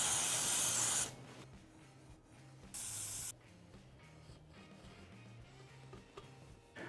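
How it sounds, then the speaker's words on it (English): Contact cleaner sprays onto the gasket surfaces of a Honda CRF450R during a clutch job, two sharp, close aerosol hisses, one long opening burst and a shorter second one, with quiet handling noises between. "First we need to take some contact cleaner and a rag and clean our gasket"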